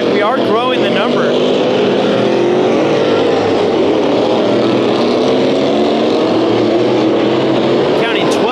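Several race cars circle the Orange Show Speedway figure 8 track in an outlaw race, a loud steady engine roar throughout with passing pitch sweeps, under a commentator's continuous voice.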